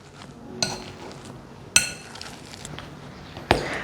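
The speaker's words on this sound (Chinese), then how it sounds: "继续把芋头压成泥状，这样子调味料也可以顺便给它搅拌均匀" Taro is mashed into a paste with sesame oil and sugar in a bowl. Soft scraping runs under three sharp, ringing clinks as the utensil strikes the dish.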